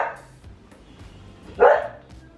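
A puppy lets out one short, sharp bark close by, with a fainter yelp at the start, over quiet indoor background noise.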